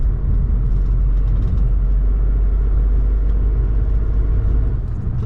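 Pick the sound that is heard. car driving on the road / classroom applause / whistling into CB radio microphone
car driving on the road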